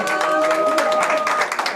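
Audience applause at an indoor book concert event: a dense, steady wash of many hands clapping close by, sustained for the whole moment with no talk over it.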